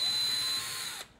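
Power driver with a larger bit unscrewing a part from a hard drive; a brief, close, high-pitched whine that runs steadily for about a second and then cuts off, with no talk.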